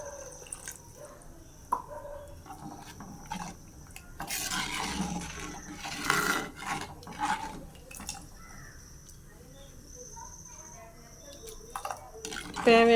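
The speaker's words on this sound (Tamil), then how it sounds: "தேவையான தண்ணி சேர்த்துங்க" Water poured into a pot of South Indian garlic curry (poondu kuzhambu) made with tamarind, a soft splashing swell in the middle amid light kitchen clinks and drips, with a person speaking at times.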